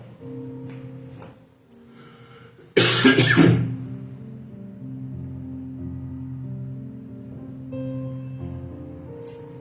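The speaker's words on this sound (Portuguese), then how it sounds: "tive até aqui um pequeno pigarrinho" A single harsh throat clearing bursts out once, close and loud, between stretches of quiet low humming sound.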